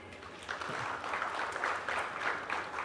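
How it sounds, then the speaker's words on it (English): An audience at a film industry panel on co-productions and film funds breaks into applause, a moderate, steady patter of clapping heard from a short distance for a few seconds. "A round of applause."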